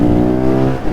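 An Audi RS6 revs hard as it passes close by, a loud, rich engine roar with strong harmonics that holds steady and then dips slightly near the end.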